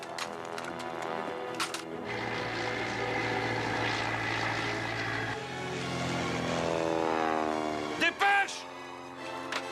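A German propeller aircraft engine drones steadily with a rising and falling pitch, while people talk over it and brief sharp noises break in near the end.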